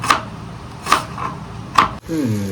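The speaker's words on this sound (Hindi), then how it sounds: "प्याज काटना तो आता है मुझे अच्छे से।" Onions chopped with a knife on a board in a home kitchen: three crisp, evenly spaced thuds close by, followed by a brief clatter as the chopping stops.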